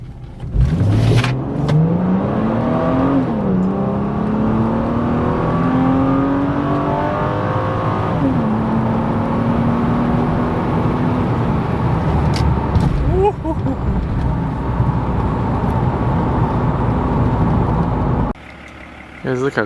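A Mercedes C36 AMG accelerates hard on the road, its engine revving loudly and climbing through rising pitch sweeps with brief dips at gear changes, up close and sustained for most of the stretch before cutting off near the end.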